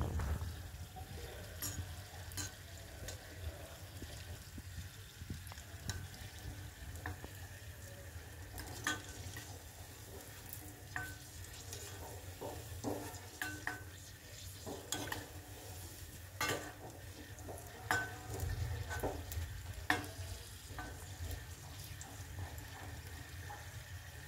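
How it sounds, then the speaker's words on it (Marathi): Green chillies frying in oil give a continuous, faint sizzle, punctuated by frequent scraping and stirring ticks throughout, with no one talking. "वाव, किती छान आपली मिरची फ्राय होते."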